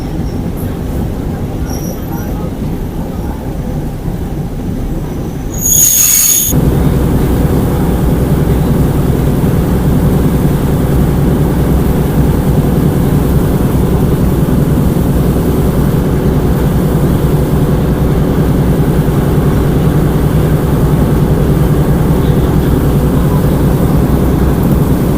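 A Bangkok local commuter train runs between Wongwian Yai and Maha Chai, heard onboard as a loud continuous rumbling drone. It follows a brief high screech, then carries on steady through a turn.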